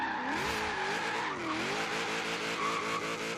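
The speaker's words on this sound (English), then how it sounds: "Never heard that much tire squeal before." A Ford F100 street truck on wide tires screeches in Forza Horizon 3, a loud continuous tire squeal that wavers in pitch over engine noise throughout.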